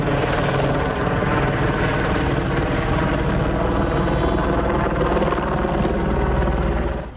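A rescue helicopter flying during an avalanche rescue of injured people, its rotor and engine making a loud, steady, close drone with a fast pulsing chop that holds throughout, with no voices.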